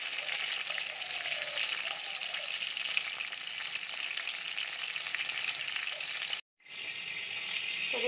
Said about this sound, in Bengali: তো দেখুন বন্ধুরা, পটলগুলো এইভাবে সব ভেজে একে একে আমি তুলে নেব।